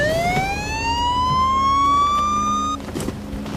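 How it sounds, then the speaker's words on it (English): A siren fitted to a car sweeps upward in a single loud, rising wail that holds and then cuts off abruptly, leaving a low engine-like hum beneath. "The car had been equipped with a police siren."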